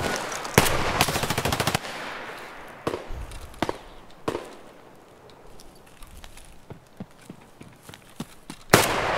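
Video game gunfire plays out as a fast burst of automatic shots up front, followed by scattered single loud cracks and lighter sharp bangs, ending on another heavy shot, all close and punchy.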